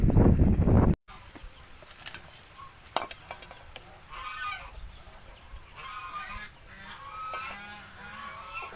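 Muscovy ducks raised on a farm give soft, breathy hisses and low, murmuring calls, moderately close, after a brief loud burst at the start.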